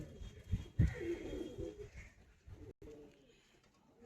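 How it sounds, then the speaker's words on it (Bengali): A Dasu-line pigeon coos softly in a few low, throaty phrases close by, with faint background noise and a little distant talk. "এটা দাসু লাইনের পায়রা।"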